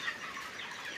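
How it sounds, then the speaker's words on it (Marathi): A flock of chickens at the Bhiravnath poultry farm clucks and chatters in a continuous, overlapping din of many birds, steady and fairly close. "बघा पक्षी"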